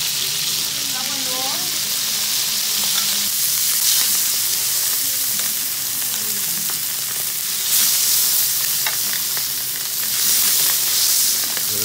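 Chicken pieces frying and browning in a pan for paella, a loud close continuous sizzle with hissing swells and occasional stirring or turning noises, a brief faint voice early on.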